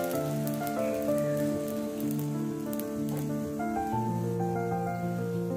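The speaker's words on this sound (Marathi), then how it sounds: "तवा तापत ठेवलेला आहे, तर नान आपण त्या तव्यावरती ठेवूया" Garlic naan placed water-side down on a hot tawa gives off a steady, soft sizzle that runs the whole time beneath prominent background music.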